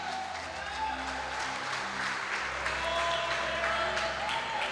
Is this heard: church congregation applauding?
yes